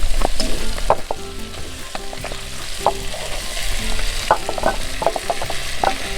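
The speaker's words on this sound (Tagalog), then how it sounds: "Tapos ilalagay po natin yung pork pata natin ngayon. Gisa na natin to." Pork pata sizzling and frying in a hot pan in a backyard kitchen while being sautéed, with steady crackle and intermittent stirring clatter throughout, close and fairly loud, no talking.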